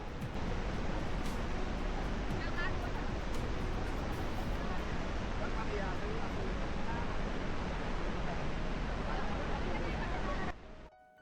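Water pours from the open Srisailam dam gates in a constant, loud, broadband roar, steady throughout and ending suddenly near the close.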